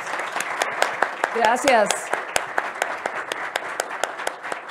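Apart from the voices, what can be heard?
audience applause for the panelists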